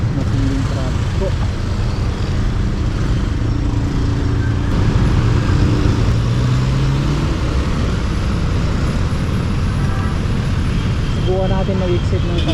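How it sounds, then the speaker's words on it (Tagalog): Heavy road traffic on a congested route toward the Kalayaan exit, a continuous low rumble of engines and tires with occasional horn-like tones, steady and close throughout. "Matinding traffic po."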